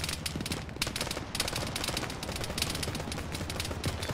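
Dense, continuous gunfire from a ShackTac Arma battle, overlapping automatic bursts and single shots crackling loudly without pause, with no talking.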